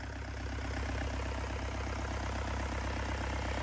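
An original Yanmar 4TNV98 turbo diesel engine idles smoothly and evenly close up, giving a steady low rumble with a fast regular beat and no change in speed throughout.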